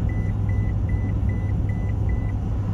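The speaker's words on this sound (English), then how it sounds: "I'm hitting that white line with my mirror. Beeps on me." A vehicle's lane warning sounds as the mirror crosses the white line on Interstate 40 West, a regular string of short, soft beeps over a loud, constant road and engine rumble.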